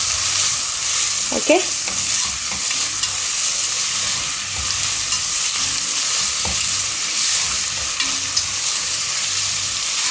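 Salted food sizzles steadily in a frying pan while a utensil stirs it, scraping and clicking now and then, close and continuous; one short word is spoken.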